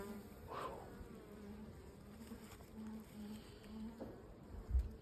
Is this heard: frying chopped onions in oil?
no